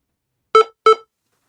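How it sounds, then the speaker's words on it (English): An old laptop powering on emits two loud electronic beeps in quick succession, each short and tonal, separated by a brief gap in otherwise silent surroundings. "Some loud beeps, that was cool."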